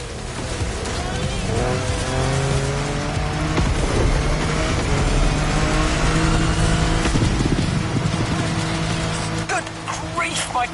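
Car speeding downhill at full throttle, its engine roaring and revving steadily with rough rumbling and tire noise throughout, loud and close, with no pauses.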